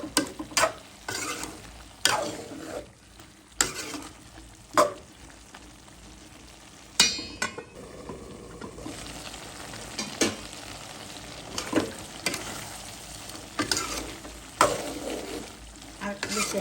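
Mixed vegetables with dried shidol fish, including beans, potato and cucumber, sizzle in a pan while a spoon repeatedly clatters and scrapes against it in irregular bursts.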